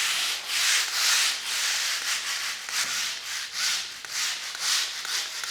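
A floor buffer fitted with a 120 grit screen sands a garage epoxy floor coating, a loud continuous abrasive whir that swells and fades in slow sweeping passes.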